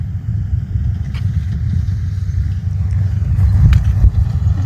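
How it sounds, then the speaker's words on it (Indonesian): A truck drives past on a road on the way toward Gotemba near Mount Fuji, a steady low engine rumble with heavy tyre noise close by, with no talk over it. "Anjay, ada truk."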